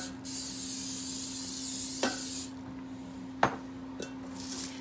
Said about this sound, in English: We're gonna spray our casserole here.